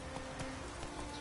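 Horse hooves clip-clopping in The Witcher 3 video game, a brief steady patter of hoofbeats over a dense game soundscape.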